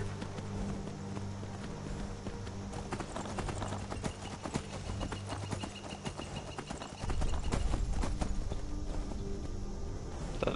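Horse hooves clip-clop steadily in the video game Skyrim, a continuous rhythmic trot over a busy in-game background that grows louder in the final seconds.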